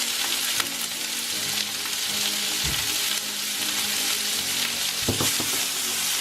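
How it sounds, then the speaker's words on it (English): Seasoning sizzling as it is sautéed in a pan for quinoa fried rice, a steady close frying hiss that runs the whole time, with a few brief clinks and stirring knocks. "So I throw in all the seasoning, just saute it and get all those yummy flavor out."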